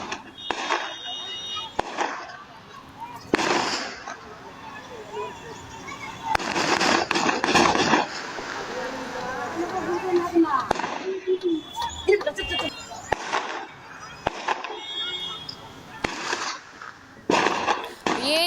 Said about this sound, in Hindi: ये जो गोलियों की तड़तड़ाहट आप सुन रहे हैं